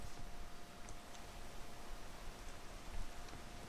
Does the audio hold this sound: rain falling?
yes